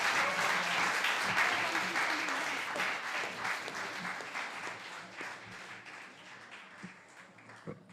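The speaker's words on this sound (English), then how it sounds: "Should we give them another big round of applause for an amazing first performance there from our prep" A school concert audience applauds a prep school rock band, loud sustained clapping that gradually thins and fades, leaving a few scattered claps at the end.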